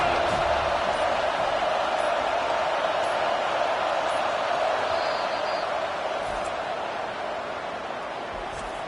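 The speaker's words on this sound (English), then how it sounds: "this crowd is letting them have it" A college football stadium crowd roars steadily against the opposing offense pinned deep near its own goal line, a dense sustained wall of noise that eases slightly toward the end.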